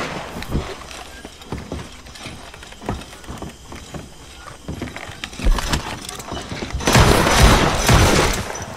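Scattered gunshots in a Red Dead Redemption 2 Online bounty shootout, a series of sharp cracks spaced irregularly, then a louder, denser burst of noise near the end.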